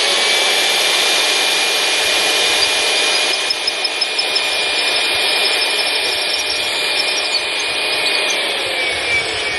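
A power tool rips through a row of clamped holes in one continuous, loud, harsh grinding whine that holds steady for the whole stretch, with no voices.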